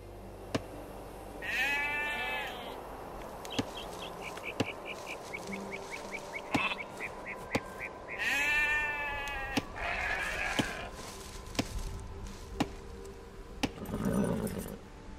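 In Age of Empires II: Definitive Edition on Xbox, sheep bleat twice, each a wavering, fairly faint cry. Sharp interface clicks tick at intervals over quiet game ambience.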